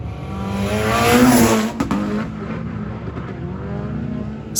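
A drift car at a drift event in Osaka, Japan, its engine revving hard and loud close by, rising to a peak and then holding a steady, rough drone for a few seconds.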